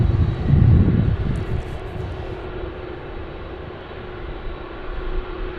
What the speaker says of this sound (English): Jetstar 986, runway 16 right, cleared for takeoff.